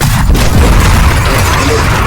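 An antimatter capsule detonates in the destruction game Teardown, giving a loud, continuous, rumbling boom that fills the whole moment without letting up.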